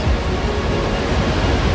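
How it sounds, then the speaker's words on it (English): Savica Waterfall in Slovenia splashing close by, a dense, loud, unbroken roar of churning water that fills the whole moment, with no speech. "The water is splashing right here."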